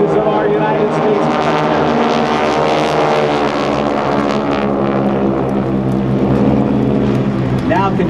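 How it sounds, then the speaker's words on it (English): A group of GEICO Skytypers World War II propeller aircraft roars overhead in a fan pass at the 2009 Joint Services Open House, a loud steady drone throughout, with an announcer's voice running over it. "here comes the GEICO Skytypers fan pass"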